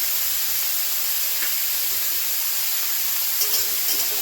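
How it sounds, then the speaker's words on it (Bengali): Salted chicken roll filling fries in a pan, giving a loud, constant steamy hiss with a few faint pops near the end. "কিছুক্ষণ ভেজে নেব।"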